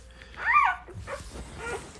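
Newborn Goldendoodle puppies whimper close by, first with a rising high whine and then with softer squeaks and muffled grunts in a short burst.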